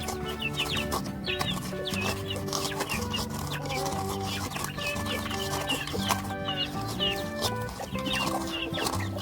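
Young Bangkok kampung chicks cluck and peep continuously nearby, with many overlapping high calls forming a busy, steady chorus.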